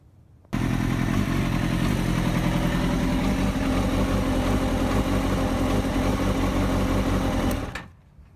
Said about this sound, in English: start the bike up and let it warm up to 200 degrees